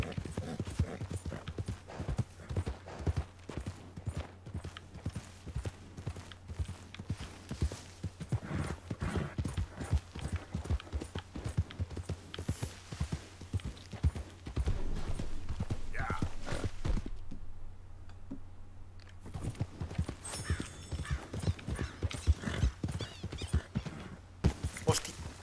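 A horse in Red Dead Redemption 2 gallops with steady, rapid clip-clop hoofbeats through most of the stretch, briefly easing off before the pounding resumes, with faint game ambience beneath.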